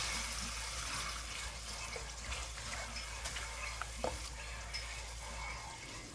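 Shrimp cook in a coconut-milk curry with fiddlehead fern over high heat, producing a steady, dense sizzle with faint bubbling and stirring scrapes, close and fairly even throughout.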